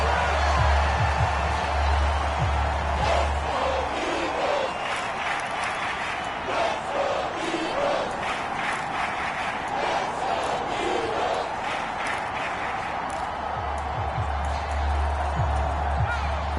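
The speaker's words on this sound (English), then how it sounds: "This crowd turning up the decibel level." A stadium crowd in a Madden football video game keeps up a loud, continuous roar of cheering that swells and dips slightly, with faint voices mixed in.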